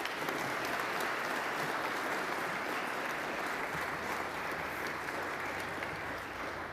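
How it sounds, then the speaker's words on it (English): Sustained applause from an audience at a Ho-Chunk ancestral land acknowledgment ceremony at Madison College: a dense, even wash of many hands clapping at steady loudness throughout, easing only slightly near the end. "And would you give them another round of applause?"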